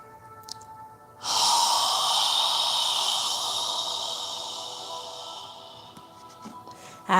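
A slow, audible yoga exhale, a long airy breath like fogging a mirror, squeezing the lungs empty, fading gradually over several seconds, close and alone.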